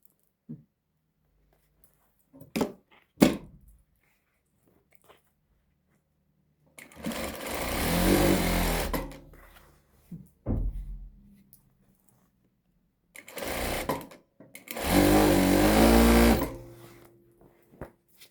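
A sewing machine stitches Adana shalwar trousers in two sustained runs of a few seconds each, close and fairly loud, with a few short clicks and handling knocks in between.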